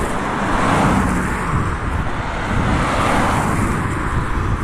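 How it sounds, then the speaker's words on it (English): A single car travels along a quiet, still rural road during a walk, a steady broadband roadway rumble that swells and eases slightly over the whole stretch with no other sounds around it. "I think that's why the car seems so loud, because there's no other sound."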